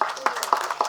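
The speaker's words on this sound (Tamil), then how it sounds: "உண்மையான கைத்தட்டு." Audience hands clapping at a Tamil film trailer launch event, four or five sharp evenly spaced claps close together in under a second.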